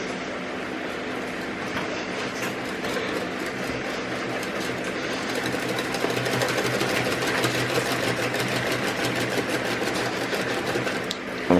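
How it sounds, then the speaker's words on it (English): A whisk beats Yorkshire pudding batter in a bowl, giving a fast, steady rattling clatter close to the mic that grows busier halfway through, with no talk. "So I'm going to give it a good whisk."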